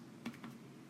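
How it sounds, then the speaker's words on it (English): An account number is being typed on a computer keyboard: a couple of quiet, quick key clicks, close and faint, over a soft room hum. "I type in the account number here"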